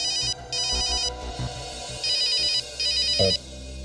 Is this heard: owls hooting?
no